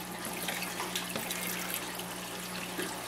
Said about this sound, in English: the water comes up the nutrient tank, flows into those drip irrigation lines, starting some seeds right there, flows down the pipes